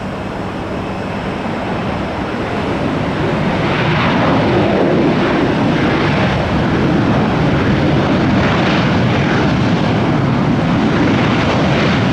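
A jet airliner landing at Tampa airport, heard up close as a steady, loud broadband roar that swells and holds throughout, with no voices.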